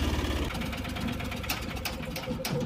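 A car's engine idles close by in a Kashmir rooftop-fitting setting, a steady low rumble with a slight knocking texture running unbroken for under three seconds, with no talk over it.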